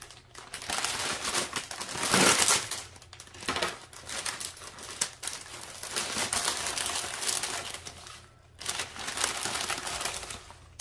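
A plastic bag of spinach crinkled and rustled up close in a kitchen, loud sustained crackling in several bursts with brief pauses between, no one speaking.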